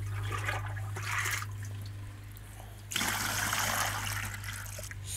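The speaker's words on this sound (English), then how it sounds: "So water is going down through this and through the little pipe here." Water trickles down through a small pipe in a tiny pulser pump model, a close, gentle, continuous dribble that surges noticeably louder about halfway through, with no one speaking.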